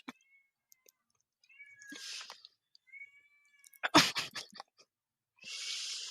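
A new kitten meows in short, high cries separated by silences, with a sneeze-like burst and some breathing noises close by, no talk.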